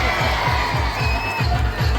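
Steady crowd roar and clapping at an outdoor wrestling bout, a dense, loud wash of cheering with rhythmic low thumps running continuously through it.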